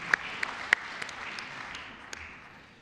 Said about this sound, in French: On peut, je pense, l'applaudir pour ce très long parcours au sein du CESE.